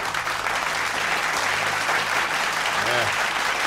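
Thick, steady applause runs throughout a podcast segment, a continuous wash of many hands clapping, with a brief voice breaking through near the end.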